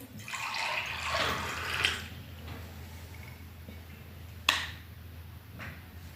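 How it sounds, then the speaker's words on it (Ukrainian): Soft running water trickles and splashes steadily at a moderate distance, with a couple of brief louder splashes. "Спочатку перейшли швидку річку."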